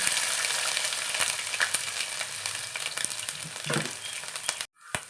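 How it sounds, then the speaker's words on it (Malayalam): Mustard seeds sizzle in hot oil for a gooseberry pickle, a close, steady crackling fry with scattered pops and a brief drop near the end. "നമ്മുടെ എണ്ണ ഒന്ന് ചൂടായിട്ടുണ്ട്. കടുക് ഇട്ട് കൊടുക്കാം."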